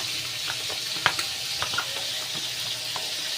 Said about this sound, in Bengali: তেল আমার গরম হয়ে গেছে, এবার আমি শোল মাছগুলো ভেজে নেব।